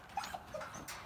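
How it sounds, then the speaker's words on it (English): A dog whimpers outdoors near sheep during a herding session, giving a few short, faint, high whines against a quiet open-air background. "There's a dog out here."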